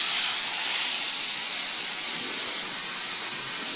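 Beef for Böfflamott searing in a hot pan, a steady loud broadband sizzle and hiss that holds throughout without any talk.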